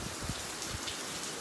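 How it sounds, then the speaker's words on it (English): Steady rain falling in a garden, a dense even hiss of drops on surfaces with no talking, soft and continuous throughout. "So I thought maybe I would show you guys the majestic rain today"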